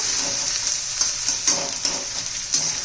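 Finely chopped onion sizzles steadily in a pan for a spiced potato curry, a dense hiss with soft scraping stirs and occasional louder crackles, close and continuous with no talking.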